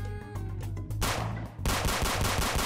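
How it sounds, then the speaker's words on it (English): Glock pistol shots in the Roblox game Zombie Battles, a fast string of sharp, loud, close pops that pauses briefly and then resumes in a dense rapid burst. "I can shoot at people now"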